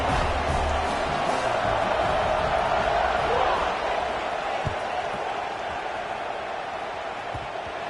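Football stadium crowd in a college football video game roaring at kickoff, a broad, steady wash of cheering noise that holds loud throughout.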